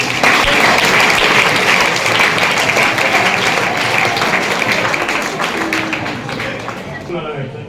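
An audience claps for a boy in a school gathering, a loud burst of dense clapping that gradually thins and fades over several seconds.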